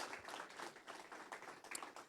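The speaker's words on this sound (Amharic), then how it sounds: "ለመንፈስ ቅዱስ አንድ ጊዜ አጨብጭቡ" A congregation claps together during a live Easter sermon, a soft, dense patter of many hands filling a large room at a distance, steady for two seconds with no speech over it.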